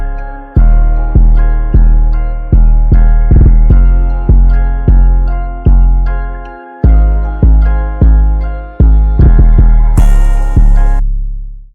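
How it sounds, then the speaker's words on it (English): An 808 bass drum programmed in FL Studio for an uptempo trap beat thumps out roughly sixteen deep, booming hits with long decaying tails in an uneven rhythm, loud and alone, with a brief hiss-like burst near the end. "So the first thing I started with was the 808."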